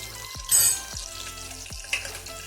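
Green chillies dropped into hot oil with whole spices for beetroot biryani, frying with a crackling sizzle and a few sharp spits and pops, near and moderately loud.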